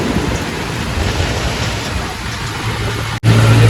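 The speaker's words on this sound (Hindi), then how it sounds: "बारिश बारिश बारिश।" Steady heavy rain hisses loud and close in a dense, unbroken wash that cuts out for an instant just before the end.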